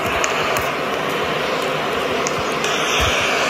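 A steady, loud airplane engine drone from a Roblox video game plane fills the whole stretch without any break, with small faint clicks on top and no talking.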